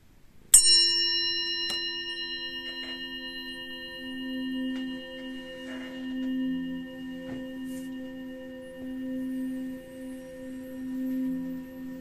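A meditation bell is struck once and rings out with a long, shimmering decay that fades slowly over several seconds, while soft low tones hum quietly underneath.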